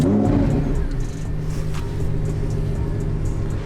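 Lamborghini engine rumbles close by after starting, a loud low idle with a slight rise early on, steady throughout.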